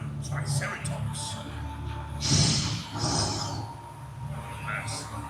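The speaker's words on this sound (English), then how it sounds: "The thundering triceratops." Deep snorting, roaring triceratops calls from a dinosaur show sound effect in Pigeon Forge, with breathy bellows and low rumble over several seconds, moderately loud, with narration mixed in.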